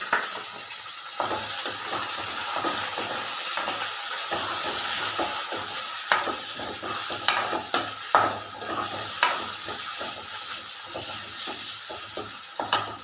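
Tomatoes hit a hot pan and sizzle with a steady hiss, broken by irregular clatters and stirring knocks, close and moderately loud with no talking.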